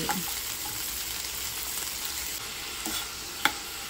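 Carrot pieces tossed with turmeric and salt in a hot pan, a steady soft sizzle with intermittent scraping stir strokes and one sharp clink near the end, no voices.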